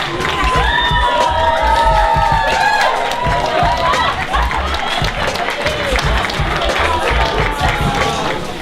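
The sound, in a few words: applause and cheering from audience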